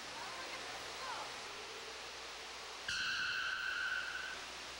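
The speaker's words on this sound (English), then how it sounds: "it rains every day during the rainy season, and so it does in Tropic World" Simulated rainforest rain falling in a zoo's indoor Tropic World exhibit, a soft, steady hiss throughout, with a brief bright tonal whistle appearing near the end.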